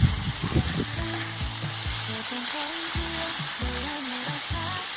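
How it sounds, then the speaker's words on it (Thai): Minced pork for Thai khua kling dry-fries in a pan without oil, giving a close, continuous sizzle with scraping stirs throughout. "คั่วเขาอีกสักเล็กน้อยครับคั่วกลิ้งให้เขาแห้งๆนะครับ"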